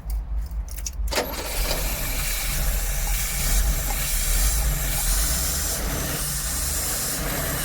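A Luton van's engine runs steadily with the throttle pressed, its carburetor leaking, giving a continuous broadband rumble and hiss that holds close and loud after a brief start, with no talking.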